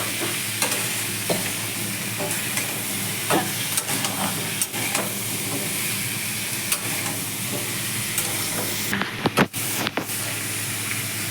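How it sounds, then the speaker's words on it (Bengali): Vegetables frying in a pan over low heat, seasoned with salt and turmeric for a shrimp and stalk chorchori, give a steady close sizzle with occasional stirring scrapes, running throughout without talk. "এই সবজিগুলোকে আমি ভাজতে থাকবো।"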